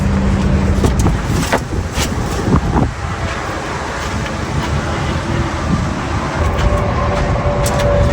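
Steady roar of I-80 interstate traffic rushing past at a distance, heard from a campsite, a continuous broadband wash with no pauses and no voices.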